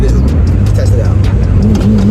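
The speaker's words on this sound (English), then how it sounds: "we'll also take it for a test drive and we'll just drive right here real quick" Inside a tuned Mitsubishi Evo 8 on a test drive, the engine drones loudly and constantly with a throaty rumble, while short bursts of higher-pitched noise come and go.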